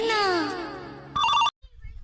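A phone's ringtone chimes loudly for about a third of a second, following a burst of chirpy, sweeping tones, then cuts off into quiet background noise.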